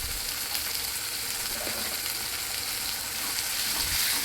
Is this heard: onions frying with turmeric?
yes